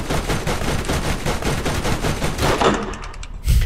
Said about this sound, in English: Fighting back from the non-harmful first gunfire.